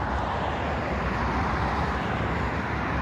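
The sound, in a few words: highway traffic noise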